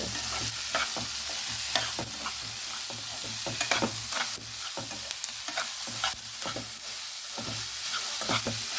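Sliced onions frying in hot oil with a steady crackling sizzle, broken by repeated scraping stirs of a spoon against the pan, close and loud, no talking.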